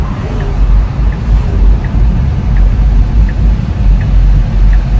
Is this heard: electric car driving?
yes